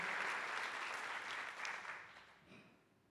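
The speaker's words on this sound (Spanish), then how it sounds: "Fuertes los aplausos" An audience at a 2023 singing workshop show applauds a performer, a dense wash of clapping that stays strong, then fades away near the end.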